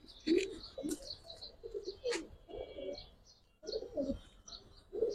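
Pigeons coo repeatedly at a pigeon seller's in Bangladesh, close soft throaty calls in short bursts with brief gaps, joined by light chirps and rustling.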